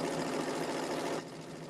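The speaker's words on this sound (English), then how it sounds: "And I'm just sewing this. This is strip piecing." Sewing machine running steadily through strip-pieced quilt block fabric, a continuous close mechanical whir that drops slightly in level near the end, with no voices.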